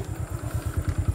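A motorcycle being ridden, its small engine giving a steady, rapid low chugging pulse at moderate distance with no voices.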